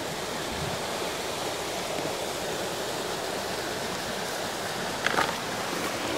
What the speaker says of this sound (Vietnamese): Cái khe suối này thì hoàn toàn là nước nguồn từ trong rừng già chảy xuống đấy cô bác.